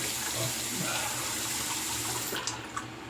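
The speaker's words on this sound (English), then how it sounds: "I'm going to rinse the brush" Tap water running steadily into a sink while a shaving brush is rinsed, a continuous close splashing rush that softens near the end with a few small drips.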